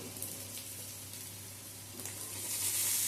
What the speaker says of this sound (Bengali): সমস্ত উপকরণগুলো হালকা করে ভেজে নেব।